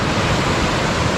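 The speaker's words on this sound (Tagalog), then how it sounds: "Medyo malakas na naman yung ulan." Heavy rain falls during a typhoon near a swollen river, a dense and loud steady hiss with no breaks and no voices over it.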